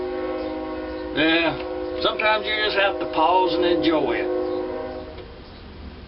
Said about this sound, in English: Oh, that train's wonderful.